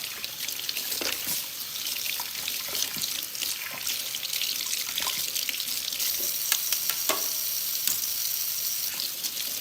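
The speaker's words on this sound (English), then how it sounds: "let me rinse this out" Running water from a salon sink tap rinses hair color out of hair, a steady close splashing stream with shifting spatter as the flow hits hair and basin.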